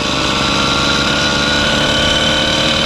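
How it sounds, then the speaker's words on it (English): A small motor fitted to a bicycle on a desert trip through Kazakhstan, running at a steady, loud, close buzzing drone with constant vibration and no pauses. "The engine sings and goes uphill very well."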